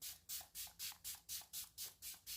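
Ten quick hissing bursts of a facial serum mist spray in a steady rhythm, close and crisp, each a short airy puff with brief gaps between them.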